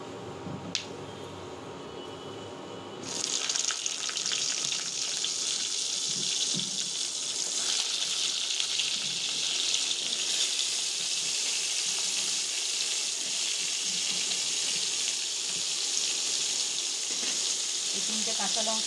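Cubed potatoes and eggplant drop into hot oil seasoned with five-spice, setting off a loud, steady broadband sizzle that starts after a few quiet seconds and carries on evenly to the end.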